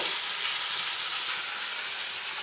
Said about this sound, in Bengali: এখানে ভেন্ডি আর আলু কষা হচ্ছে